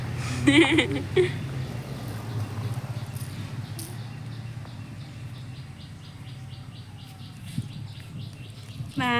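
A small bird chirps outdoors near a sandy play area, with a few quick chirps early on and then a faint insect-like buzz lingering in the background.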